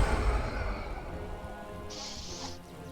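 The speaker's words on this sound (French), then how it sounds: "Il pleut, mais cette fois-ci, il commence à pleuvoir du sang." Steady rainfall sound effect during a tabletop role-playing game session, a dense hiss of falling rain with a brief brighter splash of higher noise partway through, no talk.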